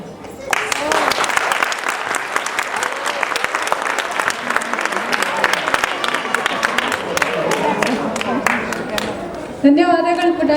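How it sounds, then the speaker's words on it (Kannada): Sustained audience applause following a children's dance performance at a Kannada community event in Seattle, dense steady clapping from many hands filling the room for about ten seconds, ending as a voice begins speaking. "ಇನ್ನೊಂದ್ಸಲ ಚಪ್ಪಾಳೆ"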